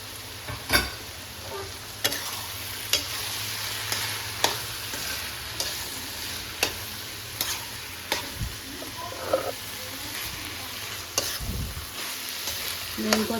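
Boiled lentils are stirred into minced meat frying in a pan, a steady sizzle underneath repeated sharp scrapes and taps of the spoon against the pan at irregular intervals, close and fairly loud.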